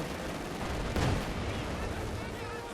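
Gunfire and a heavy blast crack through the Company of Heroes 2 battle at Smolensk, with one sharp burst standing out over a dense, rumbling wash of combat noise.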